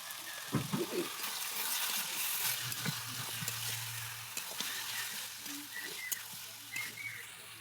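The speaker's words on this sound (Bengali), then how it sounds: "নুনটা দিয়েও আর একটু নেড়ে চেড়ে নিলাম।" Mutton curry frying in a pan after salt is added, sizzling steadily throughout while a spoon stirs it with scraping strokes and light clinks, close and alone with no talk.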